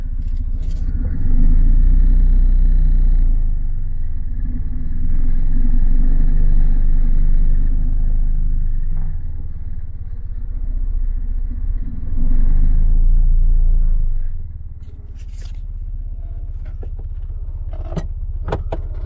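Polski Fiat 126p with its small engine idling and revving as the car reverses, a steady low rumble that swells and eases, with light mechanical clicks toward the end.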